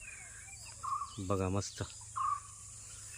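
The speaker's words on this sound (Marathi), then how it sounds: "पक्ष्यांचा पण आवाज येत असेल तुम्हाला" Short bird chirps ring out a few times over a steady insect hum on a morning walk near Malvan, with a brief spoken remark in between.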